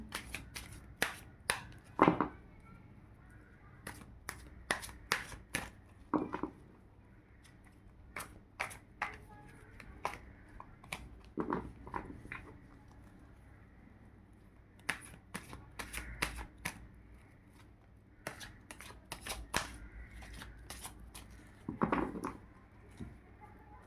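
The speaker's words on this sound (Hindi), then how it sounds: "चलिए कार्ड्स निकालते हैं।" Tarot cards shuffled by hand in a quiet room, a steady run of crisp riffling bursts and soft slaps repeating every second or two, close and clear with no talking.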